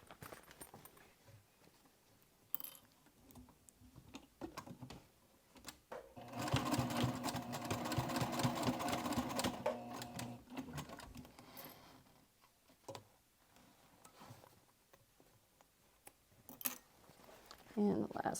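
A sewing machine stitches a crossbody bag seam and back stitches, sounding as a faint, quick mechanical patter in short bursts with a longer steady run in the middle and soft pauses between, under quiet speech.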